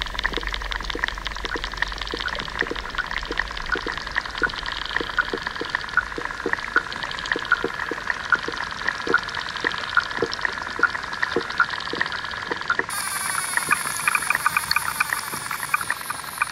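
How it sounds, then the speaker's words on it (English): Oxygenating plants in a freshwater pond bubble underwater as they respire, giving a steady, repetitive stream of tiny ticking pops and fizzing with a soft hiss throughout. "Some plants oxygenate the water, creating hypnotic, repetitive, bubbling textures as they respire."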